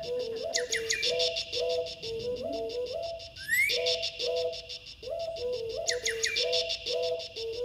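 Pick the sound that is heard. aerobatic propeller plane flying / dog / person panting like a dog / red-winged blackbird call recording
red-winged blackbird call recording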